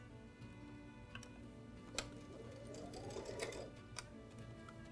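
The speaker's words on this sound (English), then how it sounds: "we're going to go ahead and stitch that seam" Sewing machine stitching a seam on a fabric tote bag, running in a steady near whirring hum with faint ticking of the mechanism and a few sharper clicks, no talk.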